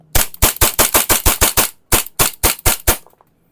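A Lancer Tactical High Kappa airsoft rifle with a 30-round magazine fires with blowback: about nine loud, sharp cracks in rapid succession, a brief pause, then five more close-up shots.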